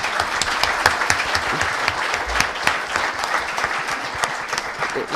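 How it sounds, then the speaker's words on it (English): Audience at an artist talk during the Delhi Photo Festival bursts into close, lively applause, distinct individual claps forming a steady patter throughout. "Can I ask you to applaud yourself?"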